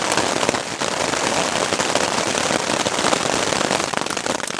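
Hail falls during a storm at an outdoor fishing spot, a dense, loud rattling patter of stones hitting surfaces all around with no talking.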